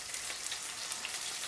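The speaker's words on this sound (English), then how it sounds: "It is sizzling quite nicely." Steady, crackling sizzle of food frying in a hot pan, dense and continuous with tiny pops throughout.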